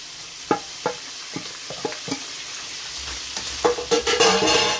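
Carrots stir-fried in a pan for pancit bihon, a run of sharp scraping stirs over a steady sizzle that grows louder and busier toward the end, with no talk.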